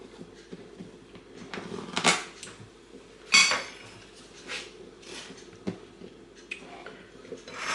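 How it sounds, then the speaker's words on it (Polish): Knife tapping and scraping on a plate or board while a cream cake on a biscuit base is sliced into portions, a few sharp clicks scattered among soft shuffling, close and fairly quiet with no talk. "I teraz kroimy na porcję."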